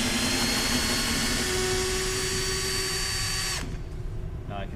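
An electric drill runs in reverse, backing a screw out of wood: a steady, loud motor whine with a high tonal hum for nearly four seconds, then it cuts off abruptly, leaving a quieter, noisy tail.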